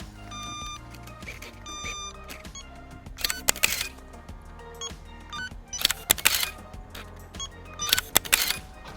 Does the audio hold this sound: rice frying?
no